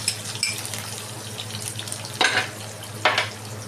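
Onions added to a pan with crushed garlic for a tamarind-leaf moong dal dish, giving a steady sizzling fry with a couple of louder bursts as the pieces are stirred.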